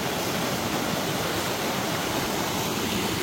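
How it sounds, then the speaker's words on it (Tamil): Waterfall near a strawberry farm outside Kodaikanal, a constant broadband rush of falling water, loud and unbroken, with no voices over it. "இங்கே ஒரு வாட்டர் ஃபால்ஸ் இருக்கு"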